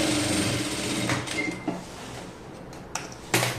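Domestic sewing machine stitching a kurti, a steady mechanical whirring run with a few sharp clicks and clacks near the end, close by with no voices.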